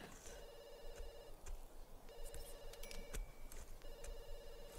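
A telephone rings in The Sims 2, repeating electronic ring bursts in a regular pattern, three rings separated by short gaps, heard fairly quietly under faint game background sounds.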